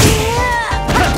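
Street Fighter IV impact sound from the Machine Gun Blow, a loud, dense burst of game hit effects lasting about a second, with a ringing tonal layer over heavy low thumps.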